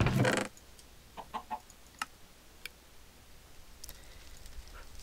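A Minecraft chicken clucks in a few short, soft bursts after a louder opening sound, with sparse clicks over a quiet game background.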